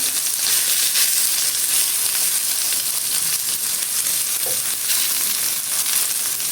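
Chow mein noodles fry in a pan with a loud, continuous hiss and crackle of hot oil, close up and unbroken throughout.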